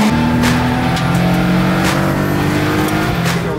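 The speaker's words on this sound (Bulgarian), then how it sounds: "Ускоряването тук на правата." A race car at a track event accelerates hard along the straight, its engine revving loud and steady throughout with rising tones and no talk over it.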